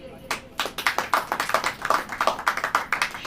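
A church congregation claps hands together in quick, steady, rhythmic beats that fill the room at moderate loudness, with no speech over it.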